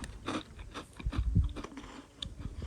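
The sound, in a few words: crunching on mini cheese crackers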